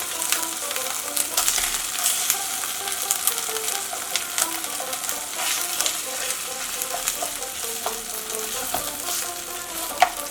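Paneer frying in a pan while being stirred, a loud continuous sizzle broken by frequent scraping strokes of a spatula, close and steady throughout.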